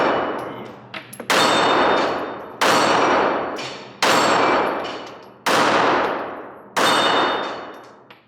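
Six loud, evenly spaced gunshots from a Valentine Arms Rebellion Glock 42 .380 pistol, each a sharp crack followed by a long decaying echo, with no talk between shots.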